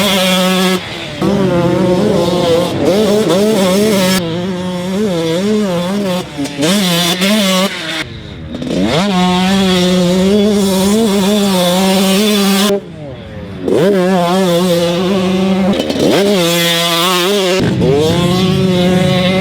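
A 2021 TM 112cc two-stroke super mini dirt bike screams close by. Its engine revs rise and fall repeatedly, with brief drops in pitch and volume between pulls.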